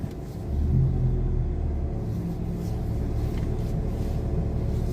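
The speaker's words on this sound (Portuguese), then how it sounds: "Deixa esse carro passar aí." A car passing on a city street at night in Aracaju, a low rumbling engine swell that rises early and then holds as a steady background drone, with no talking.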